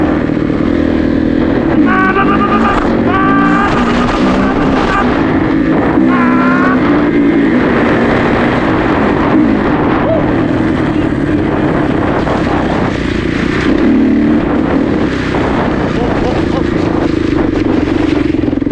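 A 2017 Kawasaki KX450F dirt bike engine runs loud and steady while riding on pavement, with revving pitch rises near the start and a constant drone throughout, a voice talking over it at times.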